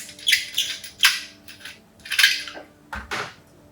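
A cream siphon charged with syrup, herbs and nitrogen gets shaken, giving a few quick metallic rattles and clinks in short bursts, close and without voices.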